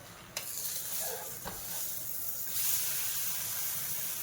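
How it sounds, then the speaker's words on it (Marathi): Home-made butter sizzles on a dosa in a hot pan, a steady close hiss with a few soft taps as it is spread around, no voices. "याच्यावर आपण लोणी टाकून घेऊया. सगळीकडून पसरून घ्यायचं असं लोणी."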